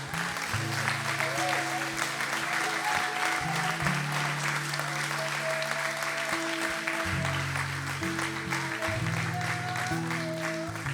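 A church congregation applauds and cheers during a worship service, with steady, dense clapping from a large crowd throughout, with voices and organ-like tones sustained underneath.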